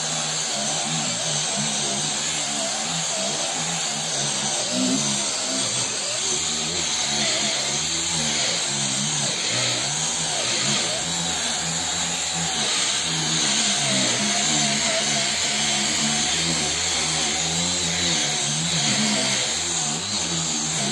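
A Parkside PAAP 12 B2 cordless polisher fitted with a fine fur pad runs at high speed, giving a continuous loud motor whine with a slightly wavering pitch for a long stretch, close by and without talk.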